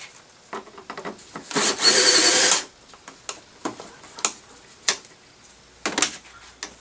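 Scraping, rubbing and tool clicks while loosening a bolt on a 2005 Volvo S60 air vent, with a louder rasping burst near the start and scattered sharp ticks after, close by with no speech.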